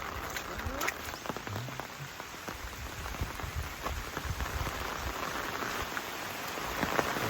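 Steady heavy monsoon rain in Konkan patters on surfaces with scattered drips, soft and continuous throughout, with faint voices in the background.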